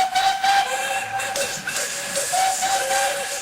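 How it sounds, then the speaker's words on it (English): A chorus of steam engine whistles from engines large and small, several sustained hissing, shrill tones overlapping loudly throughout with steady steam hiss beneath. "This was the signal for a chorus of whistles from engines large and small."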